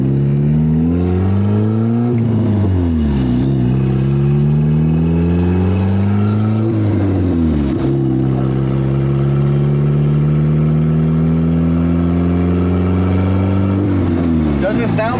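A turbocharged Honda Civic fitted with a new eBay turbo revs up through repeated pulls, engine pitch rising and dropping with each gear change, loud and close with faint turbo whir beneath.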